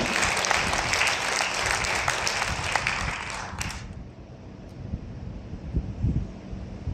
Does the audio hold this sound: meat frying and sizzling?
no